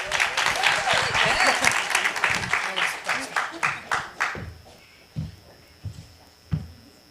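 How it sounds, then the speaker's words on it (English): Applause from an audience welcoming a singer onstage at a voice-themed festival, dense and steady for about four seconds, then thinning into a few scattered, separate claps as it dies away. "So let's give her a round of applause"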